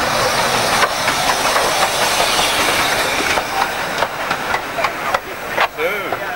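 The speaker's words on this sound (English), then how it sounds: "we've got another train coming into the station" A Romney Hythe & Dymchurch Railway miniature train rolls into Dymchurch station during a 1998 gala. The rumble is loud and close, with hiss and clickety-clack wheel noise and some voices mixed in, on a tape-recorded soundtrack.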